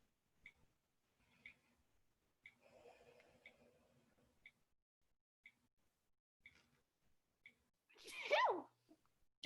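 A single sharp, breathy sneeze bursts out near the end of a quiet indoor stretch, preceded by faint scattered clicks and a soft murmur, with no talk over it.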